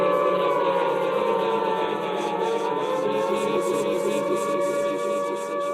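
A long air raid siren wail drones steadily through the whole stretch, its pitch rising and falling slowly, with a busy background murmur underneath.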